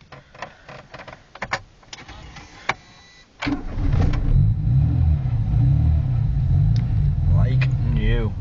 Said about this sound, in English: Starts first time, which they don't like, especially from cold.